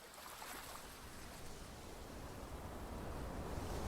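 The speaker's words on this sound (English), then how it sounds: "I heard water. We're hearing wind." Rushing water and wind in a trailer, a steady broadband wash like waves or a stream that builds slightly louder toward the end, with no talking.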